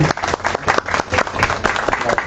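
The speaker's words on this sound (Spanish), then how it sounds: "vamos a darle un fuerte aplauso a Federico Mastrogiovanni" Applause from a lecture audience in Mexico after a keynote talk on forced disappearance, fairly close and uneven, with individual claps standing out in the dense clapping and some voices mixed in.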